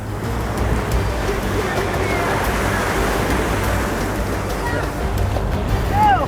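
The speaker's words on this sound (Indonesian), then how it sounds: "Kami harus bertaruh dengan hempasan ombak yang tak bisa diprediksi." Ocean waves crash and surge in a continuous roar of surf on the coast at Way Haru, Indonesia, loud and close, with a faint high squeal near the end.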